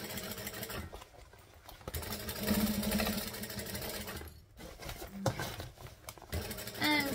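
A sewing machine stitches around a bag in steady running bursts with brief pauses between them, close and fairly loud, with a little speech under it.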